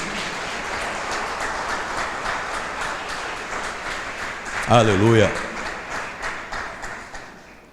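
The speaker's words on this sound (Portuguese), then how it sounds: "Aplauda o nome do Senhor Jesus por isso." A church congregation applauds during a pastoral anniversary service, a continuous wash of clapping beneath a voice that calls out briefly midway.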